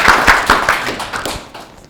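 Audience clapping to welcome a speaker to the stage at a Korean business mentoring talk, a short burst of hand claps that starts strong and fades out over about two seconds.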